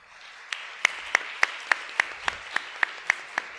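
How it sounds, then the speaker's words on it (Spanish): A small audience at an academic panel discussion claps for the speakers, with sparse, evenly spaced individual claps standing out over a soft wash of applause lasting a few seconds. "Le brindamos también un aplauso."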